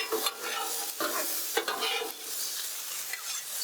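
Sausage sizzles on a Blackstone flattop, a bright continuous hiss broken by repeated scraping stirs of a spatula, close and loud with no talk.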